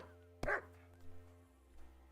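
A dog in the medieval video game Kingdom Come: Deliverance II lets out a single sharp bark, followed by softer faint yips against a quiet game background hum.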